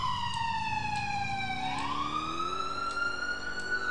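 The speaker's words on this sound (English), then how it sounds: "I gotta get a new siren. That's really loud." A loud electronic police car siren in a video game wails continuously, its pitch sliding down and then sweeping back up, close and dominant throughout.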